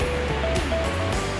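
Steady rushing roar of Kirifuku Falls, a waterfall heard from a viewing spot, a brief continuous wash of falling water with no break or voices.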